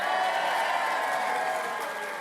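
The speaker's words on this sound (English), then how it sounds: "let's give a big cheer for the graduating class of 2026" A graduation ceremony crowd cheers for the graduating class, a brief, dense, distant roar of many voices that fades slightly at the end.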